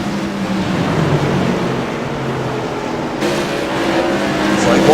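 Modified race cars lap the oval at Southern National Motorsports Park, a steady loud engine roar with several cars blending together and a shift in the pitch mix partway through, no talk over it.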